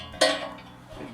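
A 1/4-inch steel griddle plate attachment is set into a grill with one sharp metallic clank, followed by a brief ringing rattle that fades quickly.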